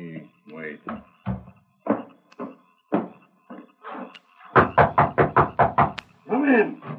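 Knocking on a door in a 1939 Lone Ranger radio drama, a fast run of about eight sharp raps following spoken dialogue, with a voice answering afterward.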